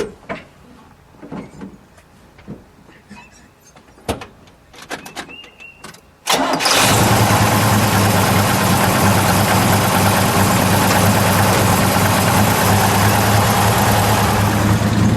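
A 1971 Chevrolet Camaro Z28 with a 350 V8 cranks and abruptly fires after scattered quiet clicks and handling noises, then settles into a loud, steady, rumbling idle that fills the rest of the clip.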